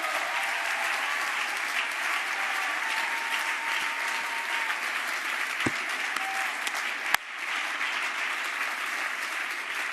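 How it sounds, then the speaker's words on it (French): A large crowd at a French presidential campaign rally in Bordeaux applauds steadily and loudly. The dense clapping runs unbroken for about ten seconds and has no speech over it. "Alors ces citoyens, je vous demande de les applaudir."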